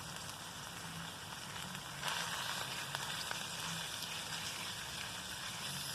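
Diced bacon sizzling in a foil cooking pouch at a camp picnic: a steady, quiet crackle and hiss with faint pops, continuous and unbroken, no voices.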